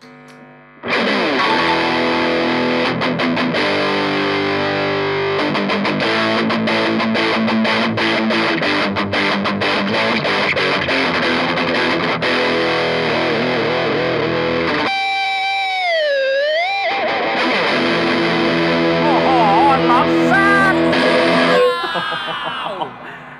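Loud distorted Sterling Cutlass CT30 electric guitar strummed in heavy chords, sustained and gritty, with a brief pause midway before the crunchy playing resumes.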